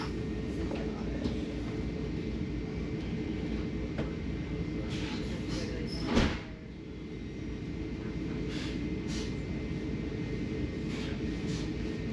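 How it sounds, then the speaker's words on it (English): A Brightline passenger train's doors slide shut with a brief whoosh and thump in the middle of a steady low hum from the carriage interior, and faint voices sound in the background. "Stay clear, closing doors."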